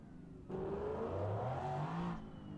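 A car engine idles low, then rises into a steady, rumbling rev that holds for about two seconds before dropping back, loud and close.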